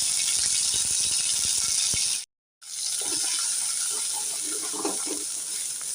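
Spice paste goes into hot oil in a wok (kadai) and sizzles in a loud, steady hiss that cuts out briefly midway, then resumes with rattling stirring.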